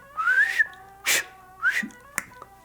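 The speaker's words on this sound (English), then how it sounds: "Man, my whistle's not working." A man tries to whistle, producing a few short, breathy rising whistle tones broken up by puffs of air, close and moderately loud with no talking.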